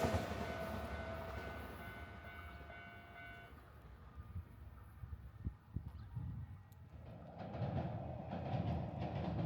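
A Medetai train on the Kada Line in Wakayama, recorded from a riverbank: a steady rumble of a passing train with tonal horn-like hum at first, a few sharp clacks of wheels on rail joints midway, then a rising rush as it nears.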